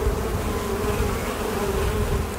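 Honeybees swarm and hum around their hives at dusk while the keepers prepare to move the colonies. The buzzing is a steady, dense drone that carries on unbroken and fairly loud throughout.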